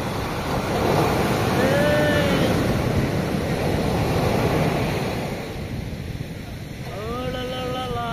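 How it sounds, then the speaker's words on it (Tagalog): Ocean waves at high tide along a sandy shore, a broad steady wash of surf mixed with wind buffeting the microphone, with a voice briefly audible near the end. "High tide ngayon, Morty."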